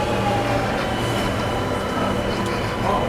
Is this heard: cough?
no